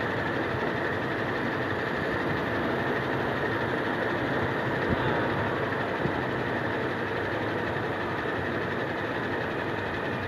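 A motorcycle engine idles steadily while the idle screw is turned, giving a continuous, even, fairly loud mechanical drone with a slight uneven sputter and no talking over it.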